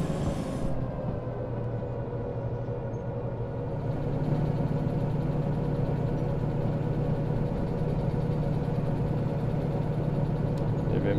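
A locomotive engine runs in the train simulator game Derail Valley with the engine still not fully warmed up, a loud steady diesel drone and rumble that rises slightly partway through and then holds constant, with no talk.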